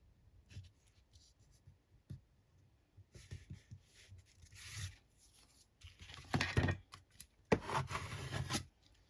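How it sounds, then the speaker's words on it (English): Paper in an altered book is burnished with a tool, soft scattered rubbing strokes that build into louder, denser scraping bursts toward the end, close and with no talking. "Give it a good burnish. Like so."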